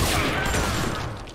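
Sustained burst of gunfire in the game Hunt: Showdown, a loud dense volley with booming low end that fills the whole moment and slowly trails off.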